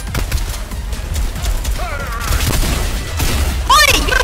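Rapid bursts of gunfire in a Fortnite battle royale squads match, loud and dense, with sharp pitched whistles and effects near the end.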